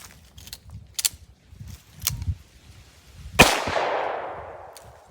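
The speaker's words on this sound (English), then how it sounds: "90 grain Extreme Defender. I don't know the JAG reference on their head stamp, but that is Underwood factory ammo. Out of the 9mm snub nose revolver." A single sharp shot from a 9mm snub-nose revolver firing Underwood 90-grain Extreme Defender factory ammunition cracks out loud outdoors and rings into a decaying echo, after a few softer clicks and handling knocks.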